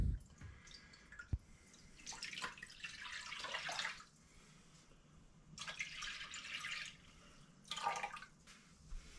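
Water is poured into an electric skillet being set up to melt wax for firestarters, in several bursts of splashing and trickling separated by quiet gaps, close by and moderately loud.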